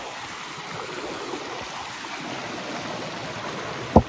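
A mountain stream and waterfall rush steadily in a broad, continuous wash of flowing water near Georgia's highest peak, with one brief thump close by near the end.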